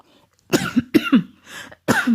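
Three or four harsh coughs in quick bursts, close and fairly loud, with short pauses between them.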